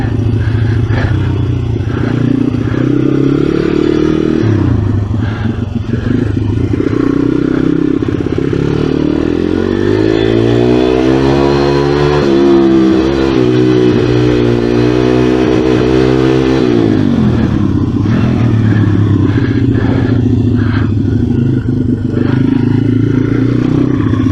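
A pit bike engine revs on an indoor kart track, a loud continuous drone that rises and falls in pitch, with a sweeping climb and drop in the middle, alone with faint clatter.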